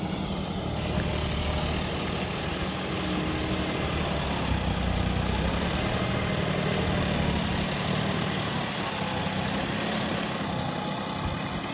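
A tractor engine runs continuously while fields are being ploughed on a farm, a loud, steady low rumble with an even drone and no breaks or voices.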